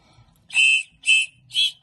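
Three short, shrill toy whistle blasts in a steady rhythm, each about a quarter second long, loud and close with brief pauses between.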